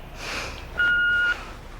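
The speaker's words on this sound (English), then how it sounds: "please leave a message at the beep" A single answering-machine beep sounds clearly, a steady pure tone lasting about half a second after a moment of faint room hiss.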